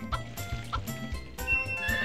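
Game horse in Harvest Moon 64 neighs in repeated short whinnies over a clip-clopping rhythmic game backdrop, with no talking.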